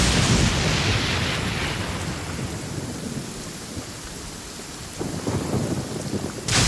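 Heavy rain with thunder in the video game Genshin Impact, a dense, loud downpour with a deep rumble at the start that eases slightly, then builds again near the end, with no voices.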